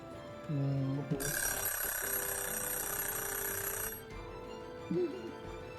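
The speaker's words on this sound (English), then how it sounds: "I'm hoping that the alarm's not too loud" An alarm in the One Piece Odyssey game rings steadily for about three seconds, a bright sustained electronic tone with a droning undertone, while voices murmur briefly before and after it.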